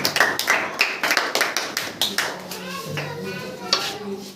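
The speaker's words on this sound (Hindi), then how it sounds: "बहुत अच्छा, ताली मार दीजिए।" Children clap their hands in a classroom, a run of sharp irregular claps at close range, followed by a voice.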